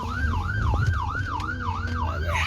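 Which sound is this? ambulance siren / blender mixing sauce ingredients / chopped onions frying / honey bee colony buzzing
ambulance siren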